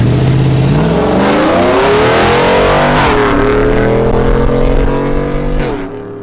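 A pickup truck accelerates hard on pavement, its engine roaring loud and close as the revs climb steadily before a gear change, then easing off at the end, with no voices over it.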